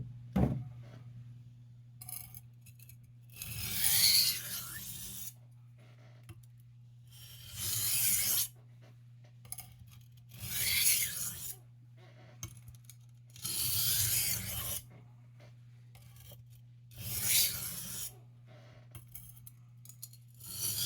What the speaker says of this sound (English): I'm going to start the cutting in of a new bevel on the medium crystalline.